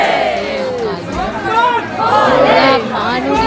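Dense crowd chatter in the packed queue at Kaal Bhairav temple in Ujjain, many overlapping voices close by and continuous, with one louder voice rising above the babble.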